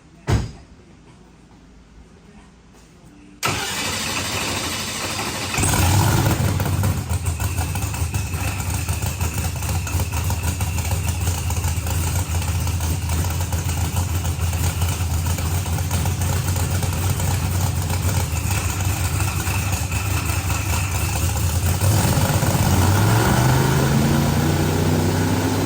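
A Procharged billet block LSX Corvette engine starts and runs hard on a dyno, a loud continuous labored roar with steady high whine, building near the end after a quiet opening.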